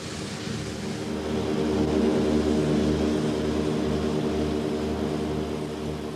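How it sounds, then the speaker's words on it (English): A Catalina flying boat drones through the air, its propeller engines producing a steady, loud, throbbing hum with regular pulsing beats that swell slightly and hold constant throughout. "the Catalina could just fly the long journey to Malaya and back"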